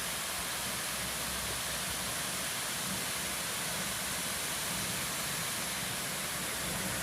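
Water rushes from the outlet of a dam below the dike near Capilla del Monte, Córdoba, as a dense, continuous broadband roar with no voices.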